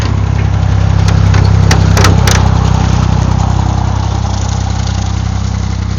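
A grass cutter engine drones loud and close while cutting grass in a blueberry garden, holding a steady, unbroken hum throughout with a few brief higher clicks near the start.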